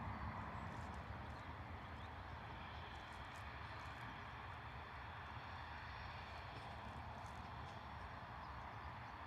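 EasyJet Airbus A320neo departing Bristol Airport in a crosswind, a broad distant jet roar holding steady and fairly faint across the whole stretch, with no talking.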